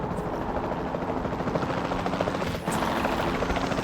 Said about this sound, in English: the sensible thing is to take a capture team helicopter